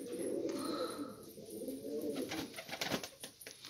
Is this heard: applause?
no